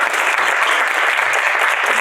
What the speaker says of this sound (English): let's give applause to our panelists.